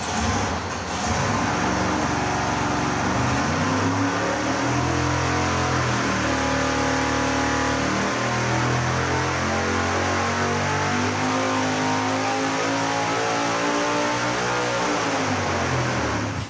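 An engine boosted with nitrous oxide roars continuously on a dyno, hit at 5,000 RPM and swept up to about 7,200 RPM, a loud sustained pull with rising pitch and no talking.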